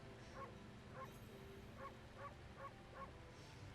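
In the video game Okami, a dog gives a series of short, light barks and yips, about six evenly spaced, faint and distant over a steady background hum.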